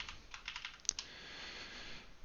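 Rapid light keystrokes on a computer keyboard while C# code is typed, faint and close, with one sharper key tap partway through.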